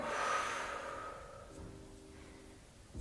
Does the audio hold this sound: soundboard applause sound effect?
no